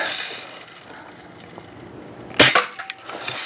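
A single sharp metallic crack from a Daisy Red Ryder BB gun pellet striking a can, close and sudden against quiet outdoor background, followed by a few faint rattles.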